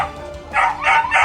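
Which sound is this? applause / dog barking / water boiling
dog barking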